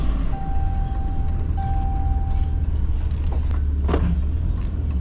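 A truck reverses slowly toward a shed on a trailer, its engine holding a low, steady rumble with a thin sustained whine and a short clunk near the end.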